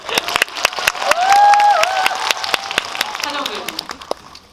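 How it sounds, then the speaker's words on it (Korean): Scattered claps ring out from a cinema audience at a film talk event in a large theater hall. The sparse, sharp hand claps sound close and uneven, and a person speaks over them. "박수 부탁드립니다."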